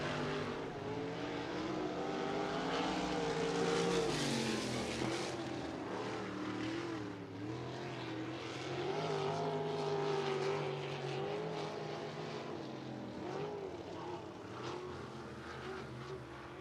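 A USAC AMSOIL National sprint car roars around Lucas Oil Speedway on a qualifying lap, its loud engine note rising and falling as it passes and circles the track.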